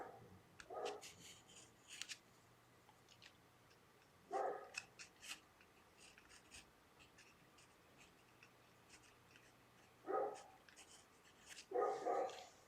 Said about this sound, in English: My dog barking outside.